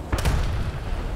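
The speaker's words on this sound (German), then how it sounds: "Okay, er hat geschossen." A single heavy cannon boom from an enemy tank in War Thunder, a sharp broadband blast followed by a low rumbling decay, loud and fairly close.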